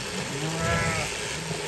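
A sheep bleats in a long, wavering cry during shearing at a New England fiber festival, set against a steady mechanical hum from the shears and a busy background.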